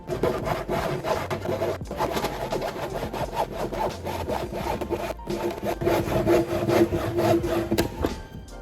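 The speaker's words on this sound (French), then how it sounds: "je me retrouve à scier chaque madrier en deux à la main, à l'ancienne" A hand saw cutting a thick wooden beam in half in quick, rhythmic back-and-forth strokes, close and steady, with a few brief pauses between runs.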